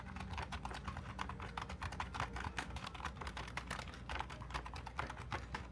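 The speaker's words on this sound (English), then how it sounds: "currently we're going to test out the audio on the actual keyboard." Steady, quiet clicking of keys on a wireless computer keyboard, with dense, even keystrokes running continuously and close up, and no talking.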